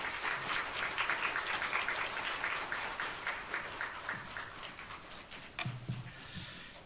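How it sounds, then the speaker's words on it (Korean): A church congregation applauds steadily to welcome a missionary, a dense and even wash of clapping from many hands that carries on for several seconds before thinning toward the end. "우리 주진호 선교사님 나오실 때 우리 박수로 환영하도록 하겠습니다."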